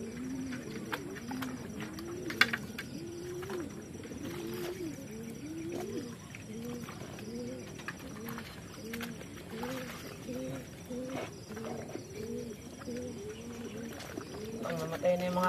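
Racing pigeons kept for derby competition, cooing in a soft repeated rhythm close by, a continuous murmur of low throaty calls throughout with occasional faint chirps and brief background talk.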